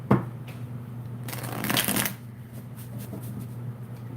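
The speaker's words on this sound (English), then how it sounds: "So I'm going to pull some cards." A deck of tarot cards is riffled and shuffled close by, with soft papery flicks that build into a brief louder flurry before the cards are drawn.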